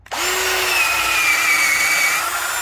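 Power drill boring dowel holes into a log for growing shiitake mushrooms, one continuous loud high-pitched whine starting abruptly and holding steady, close by.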